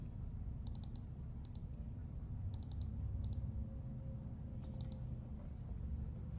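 Quick paired and triple mouse clicks land in small bursts while double-clicking spreadsheet cells, faint and crisp over a steady low hum.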